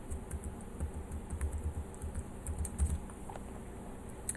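Keys on a computer keyboard tapped out in quick irregular bursts while a password is entered, a light clicking patter that is close and clear, with a faint steady hum behind it and no talking.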